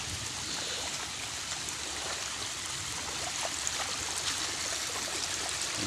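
Steady rushing of floodwater flowing into a frog pond during a typhoon, with a constant broadband hiss and light splashing, continuous and fairly close throughout.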